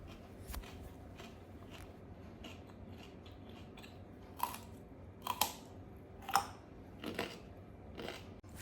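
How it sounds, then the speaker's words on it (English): Someone munches on a raw carrot close to the listener, with a series of sharp, crisp crunches spaced a second or so apart over a quiet background. "Here is me munching on a carrot, as it's one of my favorite sounds in the world."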